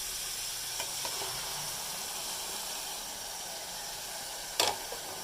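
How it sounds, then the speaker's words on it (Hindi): Ginger garlic paste and spices fry in a pot for maash dal, giving a steady close sizzle with a brief clatter of stirring near the end. "देखिए अदरक लहसुन का पेस्ट मैंने डाल दिया, थोड़ा सा ये भुन जाए फिर हम इसमें मसाला डालेंगे।"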